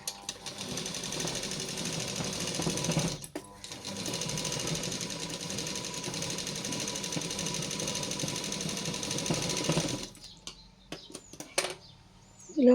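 A sewing machine stitches a Punjabi dress top in a long, steady rattling run of close rapid stitches, pausing briefly partway and stopping near the end, followed by a few handling clicks.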